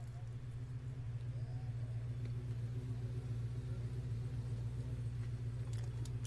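A drag race car's engine holds a steady, deep idle rumble before the race, close and even.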